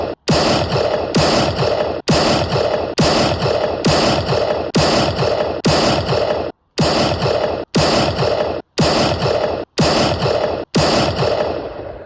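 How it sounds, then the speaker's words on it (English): Gunfire for a 21-gun salute: loud, evenly spaced volleys of broadband bursts roughly once a second, rattling like rapid mechanical shots, with a brief gap partway through and no talk. "21 gun salute."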